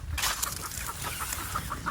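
Chickens on a rural farm in the Philippines cluck in short, repeated calls against steady outdoor background noise, fairly close by.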